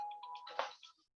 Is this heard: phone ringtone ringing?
yes